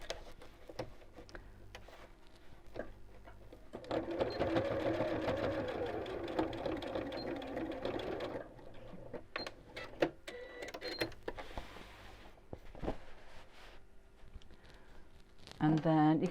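A sewing machine stitches slowly through a fat-quarter fabric storage box in a close, steady mechanical run lasting several seconds, then stops and starts in short bursts while someone talks.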